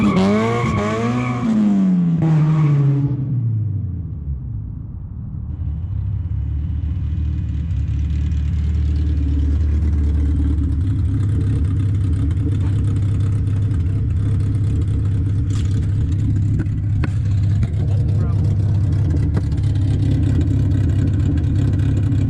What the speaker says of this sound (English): my first attempt at a burnout, we blew the coupler off the exhaust